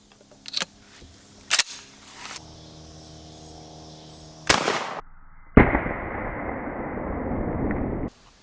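A shotgun fires number 8 birdshot at a target: several sharp reports with clicks and handling noise between them, ending in a long broadband rush that cuts off abruptly.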